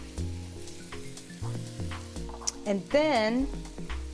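Shiitake mushrooms sauté in a pan with soft sizzling and a few scraping stirs, while a voice speaks briefly over them.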